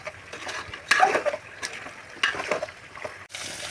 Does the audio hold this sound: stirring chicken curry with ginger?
yes